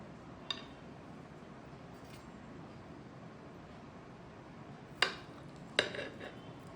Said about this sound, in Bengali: আমি একটা আলু কেটে আপনাদের দেখিয়ে দিচ্ছি। আগে স্কিওয়ারগুলো এভাবে বের করে নেবেন।